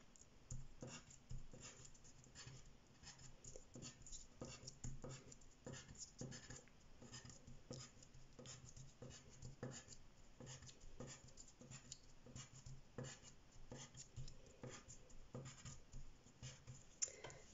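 Small pencil strokes scratch on paper in a quick, irregular series of short ticks, quiet and close, continuing steadily without any talking.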